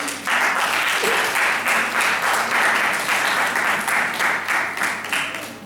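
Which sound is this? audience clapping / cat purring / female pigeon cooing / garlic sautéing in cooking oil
audience clapping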